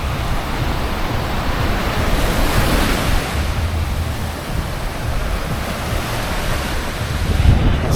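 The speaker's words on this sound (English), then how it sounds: "So Weligama Beach, very famous for surfing. As you can see, the waves are really good." Ocean surf at Weligama, a surfing beach in Sri Lanka: a steady, loud roar of breaking waves with wind buffeting the microphone and no voices.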